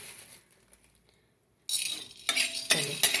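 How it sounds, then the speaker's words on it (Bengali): Whole spices, black peppercorns among them, dry roasted and stirred in a dry pan. After a quiet start comes loud scraping and metallic clinking, in a few close bursts. "দেখো খুব সুন্দর করে এটাকে শুকনো খোলায় নেড়ে নিচ্ছি।"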